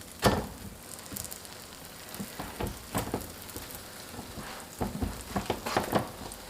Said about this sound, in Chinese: 烙至糯米饼的底边变色